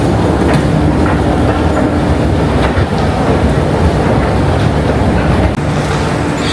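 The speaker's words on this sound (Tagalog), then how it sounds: "Tamsui, last station ng Red Line" Continuous loud rumble and rattle of a Taipei Metro Red Line train at Tamsui station, with steady clickety-clack from the wheels and a faint squeal or two, and no voices over it.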